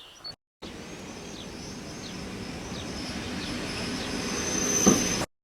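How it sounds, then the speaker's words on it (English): A train arriving at the station in Zamość, Poland rumbles steadily with repeated high metallic squeals from the wheels, growing slightly louder toward the end before cutting off. "Train just arrived moments ago"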